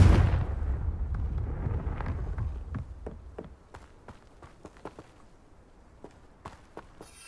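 Confringo blasting spell in Hogwarts Legacy: a deep rumbling blast at the start that dies away, followed by a string of sharp, scattered crackling pops and snaps, growing sparser and quieter.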